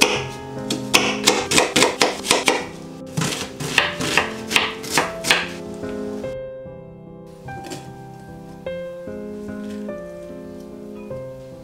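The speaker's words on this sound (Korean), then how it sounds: "양파는 다져줄게요." A knife minces half an onion on a board in quick, close, rhythmic chops that run for a few seconds and then thin out, with steady tonal music playing underneath.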